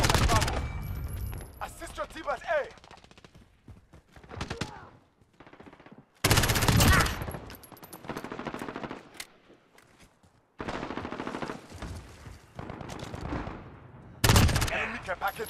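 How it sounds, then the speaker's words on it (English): Call of Duty: Modern Warfare hardcore Domination match with an enemy sentry gun firing: repeated loud bursts of rapid automatic gunfire broken by short pauses, with faint game sounds between them. "Enemy sentry gun active."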